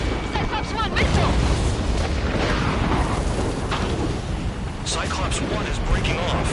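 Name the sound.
missile explosion in a video game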